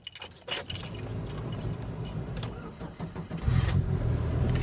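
A Mako S10 Xtreme boat engine cold-starts on a freezing day: a brief cranking burst, then the motor catches and settles into a steady close idle that swells louder near the end, with no talk.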